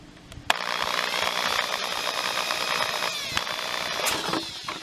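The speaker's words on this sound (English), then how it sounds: "I want to start the drill going off forward, and I'm going to do it just until it breaks through" A power drill whirs steadily at close range for several seconds, its high motor tone shifting slightly as it bites, with a few sharp clicks along the way.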